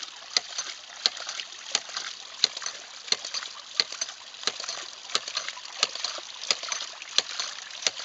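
A homemade ram pump running, giving a steady rhythm of sharp water knocks and clacks about twice a second over continuous sloshing and splashing water, fairly close.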